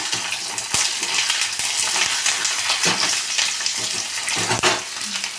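Tomato dal tempering with coriander and curry leaves sizzles loudly and continuously in the pan while a spoon stirs through it, with a few metallic taps, heard close with no speech.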